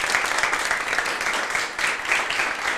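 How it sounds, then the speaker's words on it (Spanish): Studio audience applauding a guest, dense continuous clapping from many hands, fairly close and even in level throughout. "Le damos un aplauso"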